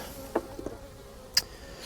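Honeybees at a hive in early spring, a faint steady buzzing hum with a few brief close passes of individual bees flying by, no talk.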